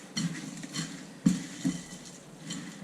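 Chicken pot pie filling being mixed in a bowl, a few uneven spoon clinks and soft scraping knocks close by, with one sharper knock midway and no speech.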